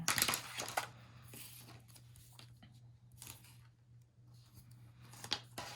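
Dirty scissors cutting paper for an album, a few short, crisp snips and rustles separated by quiet gaps, close and fairly soft.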